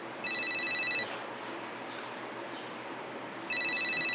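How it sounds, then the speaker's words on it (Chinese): A telephone rings in two clear bursts, one near the start and another toward the end, with a quiet room pause between rings and no talk. "对不起，我去接个电话。"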